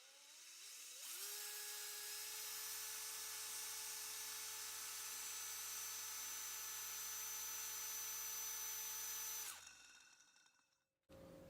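Power sander working over a part before painting, a loud steady high whine that runs unbroken for about eight seconds, then spins down and stops.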